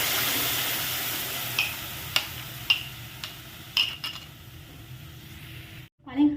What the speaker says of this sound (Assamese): ইয়াতে মই পেষ্ট বনাই ৰখা পালেংসমূহ এড কৰি দিম।